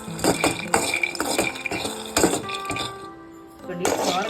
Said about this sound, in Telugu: ముందుగా అయితే మనం వేరుశనగపప్పులు అయితే వేయించుకుంటున్నాము